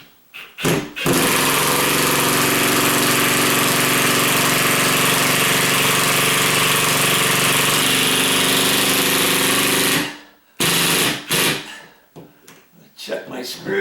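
A ratcheting drill drives a screw into a ceiling fan pancake box in one long, loud, continuous whirring run of about nine seconds, bracketed by brief clicks and handling noises.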